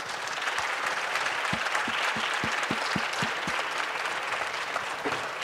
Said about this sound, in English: Could we all clap to our partners over here and a warm welcome to our community?